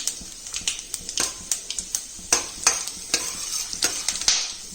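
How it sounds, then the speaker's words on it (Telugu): Peanuts, cumin and mustard seeds temper in hot oil for lemon rice, crackling and popping in sharp, irregular bursts over a steady close sizzle, with no talking. "ఇప్పుడు పోపు దినుసులు వేసుకోవాలండి."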